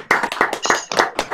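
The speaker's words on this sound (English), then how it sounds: "give Andrew a massive round of applause, please?" A handful of people clapping, close and uneven, with claps piling up into a short, loose burst of applause.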